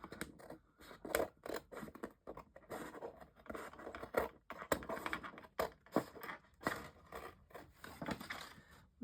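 Scissors cut paper around a notebook cover in quick, repeated snips and rustles, close but quiet, with no talking.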